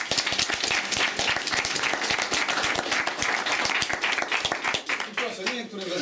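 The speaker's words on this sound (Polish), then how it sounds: "Ale najpierw brawa, teraz się będziemy wygłaszać." Dense, loud applause from a debate audience fills the whole stretch, many hands clapping in a steady rattle, with voices emerging toward the end as it winds down.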